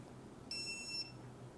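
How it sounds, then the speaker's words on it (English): A Bousnic shock collar for dogs gives a single steady high-pitched electronic beep lasting about half a second, close and clear against a faint room hiss. "There's the beeping sound it makes."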